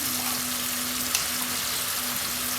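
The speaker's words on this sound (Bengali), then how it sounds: "এখন আমি মশলাটা পাঁচ মিনিট মতো কষিয়ে নিই" Turmeric and coriander powder spice paste fries steadily in a pan for a Bengali koi fish curry, giving a close, even sizzle with a faint steady hum beneath.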